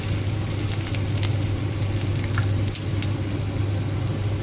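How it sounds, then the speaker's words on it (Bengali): Onion, ginger and garlic browning in a pan give a steady, close crackle and sizzle with scattered sharp pops, continuous throughout over a low hum. "পেঁয়াজটা একটু ব্রাউন করে ভেজে নেব।"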